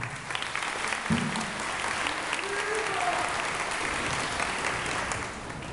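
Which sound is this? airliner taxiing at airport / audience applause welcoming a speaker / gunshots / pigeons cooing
audience applause welcoming a speaker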